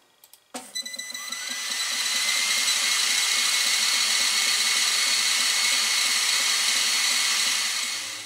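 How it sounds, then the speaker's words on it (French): An Ortur Laser Master 3 laser engraver etches a logo into leather, giving a steady, loud mechanical whir with a high whine and faint rhythmic ticking that starts abruptly and runs continuously alone. "Toujours sur le même cuir, même épaisseur, je vais venir graver mon logo et ensuite je viendrai couper au laser tout le tour"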